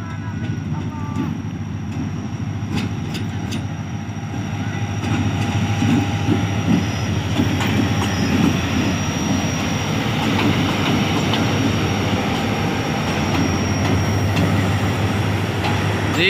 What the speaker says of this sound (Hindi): तो नाचिंग साउंड आप इसकी इंजॉय करें अभी।